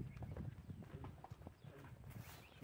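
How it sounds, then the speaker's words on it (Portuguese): A herd of crossbred cattle passes by on a rural road, with a faint, irregular patter of hooves and scattered shuffling at a moderate distance; no clear talk. "Aqui, a boiada tá passando aqui."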